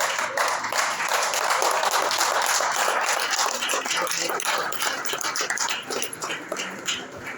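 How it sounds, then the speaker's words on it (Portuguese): A church congregation applauds in a dense, sustained burst of clapping that fills the room, thinning slightly toward the end. "Podemos sentar, aplaudindo o Senhor."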